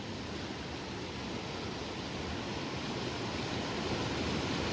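Magic Falls, a class IV rapid on the Kennebec River, roars as a steady, dense broadband rush of whitewater heard from the shore. The sound stays unbroken and even the whole time, with no voices.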